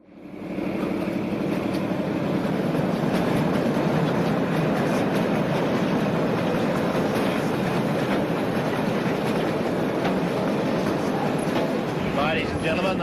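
A passenger train, the Ghan, rolls steadily along the rails through the outback near William Creek, with a continuous loud rumble and rattle of carriages throughout and a faint voice now and then.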